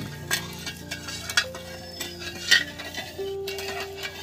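Chhana for rasgulla being stirred in a pan, with a utensil scraping and clinking against the metal in irregular strokes, close and moderately quiet, with no voices.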